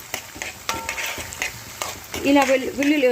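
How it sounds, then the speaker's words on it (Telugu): Onions fry in a pan for chaamagadda ullimasala, giving a light crackling sizzle with clicks of stirring, while someone speaks over it close by. "ఇలా ఉల్లిపాయలు కొంచెం వేగాలి."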